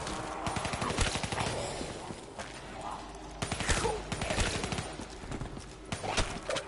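Rapid gunfire from a gun in Call of Duty Zombies, fast repeated shots in bursts amid other game sounds, moderately loud with short gaps.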